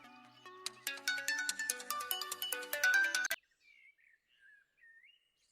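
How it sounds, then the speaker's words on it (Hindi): A mobile phone ringtone plays in a Pakistani TV drama scene: a bright, tuneful run of electronic notes lasting about three seconds, then it cuts off, leaving a few faint chirpy tones. "बस कर दो ज़किया, क्यों बार बार उसे फोन कर रही हो?"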